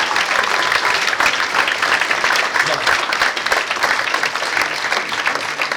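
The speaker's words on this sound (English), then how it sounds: "Please, a round of applause for all of the winners this evening" Applause for the winners at an end-of-season Player of the Year awards evening: a large audience claps densely and steadily, close and loud, without a break.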